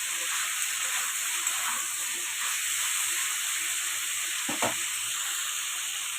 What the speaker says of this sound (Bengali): কষা প্রায় হয়ে এসছে, আর একটু কষবো।